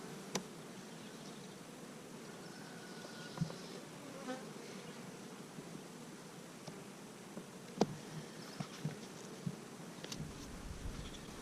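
A steady swarm of Italian honey bees hums and buzzes all around an open hive during an inspection, with occasional soft clicks and rustles up close and no speech.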